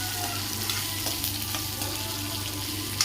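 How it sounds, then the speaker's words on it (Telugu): Onion and green chili frying in oil in a pan for bombay rava upma, a steady close sizzle with a few faint clinks running throughout. "ఇలా ఉల్లిపాయ పచ్చిమిర్చి వేసుకొని కొంచెం ఒకసారి బాగా ఫ్రై చేసుకోవాలండి"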